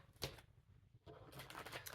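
A deck of playing cards is shuffled by hand. A quick riffle burst is followed by a pause, then a longer run of soft, rapid card flutters, all close and quiet.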